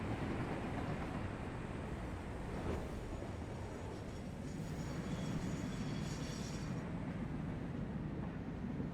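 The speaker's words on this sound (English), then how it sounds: "And here's the train." A train rolls in within the video game Satisfactory, a steady low rumble and rail hum with a gentle swell partway through, continuous and fairly close, with no talking.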